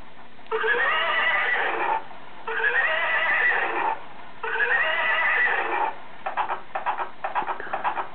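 Toy horse gives three long electronic neighs in quick succession, loud and close, followed by a burst of rapid clip-clop ticking, with no talking over it.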